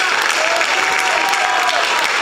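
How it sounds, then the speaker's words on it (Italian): Sustained crowd applause at an outdoor Lega Nord political rally in Borgosesia, dense and steady clapping filling the whole stretch with a faint murmur of voices underneath. "Fate un applauso ad Andrea Crippa"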